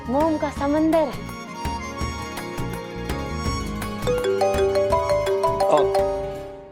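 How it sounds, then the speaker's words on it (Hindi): A phone rings with a melodic ringtone that plays as a continuous tune at moderate loudness, its notes rising and repeating. "फोन फोन आ गया"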